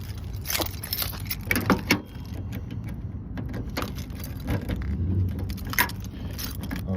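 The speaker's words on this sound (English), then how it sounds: "Let me get my keys here." Car keys jangle and clink in quick, bright bursts while being pulled out to unlock a Mazda Miata, with steady low road or engine rumble beneath and no speech.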